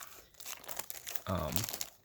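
Plastic wrap crinkles and tears as sealed Sony MiniDiscs are unwrapped, close crackling bursts in a busy run, with a person's voice joining partway through.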